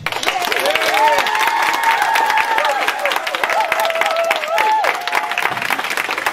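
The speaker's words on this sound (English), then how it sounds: "So now you guys get to vote by clapping or getting rowdy." A crowd claps and cheers loudly, with whoops and raised voices riding over continuous applause.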